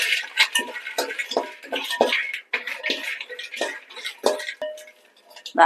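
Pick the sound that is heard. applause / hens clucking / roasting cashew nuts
roasting cashew nuts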